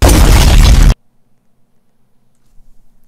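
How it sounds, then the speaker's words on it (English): A loud, dense burst from explosions in a Roblox game, roaring for under a second and then cutting off abruptly into near silence with only a faint low hum afterward. "Are they gonna all explode?"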